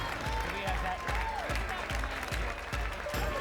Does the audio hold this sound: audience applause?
yes